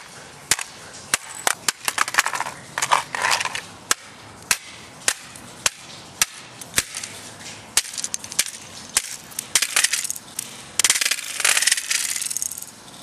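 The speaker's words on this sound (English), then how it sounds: "I'm hitting it lightly, by the way." A handheld game player is struck lightly and repeatedly in a durability test, giving sharp, separate cracking knocks at a steady pace, then a denser cluster of impacts and rattling at the end.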